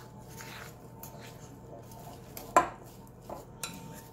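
Dumpling batter for a keto chicken soup being mixed in a bowl in a home kitchen: soft, quiet scraping and stirring with a few sharp clinks of a utensil against the bowl.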